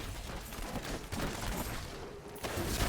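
Explosions in the action game Diablo 3 during a wizard fight crackle and burst in a dense, loud, rapid string of blasts with a few sharper hits, overlapping with no pause.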